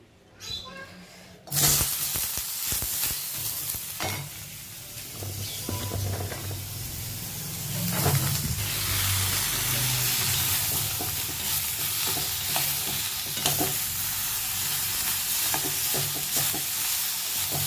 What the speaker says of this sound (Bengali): এবার আমি সবজিটা নিয়ে সবজিটাকে একটু হেলুনি দিয়ে সিদ্ধ করে নেবো, কড়াতেই সিদ্ধ করে নেবো।